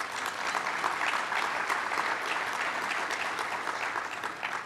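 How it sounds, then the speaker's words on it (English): An audience at a keynote address by an FCC commissioner breaks into applause, a steady, even wash of many hands clapping at moderate loudness with no talk over it. "that deserves a round of applause"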